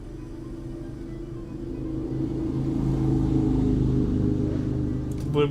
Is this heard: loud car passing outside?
yes